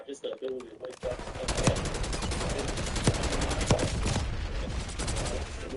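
Rapid automatic gunfire in Call of Duty Black Ops 6 rattles in a dense, steady stream of close, loud shots, with someone talking over it.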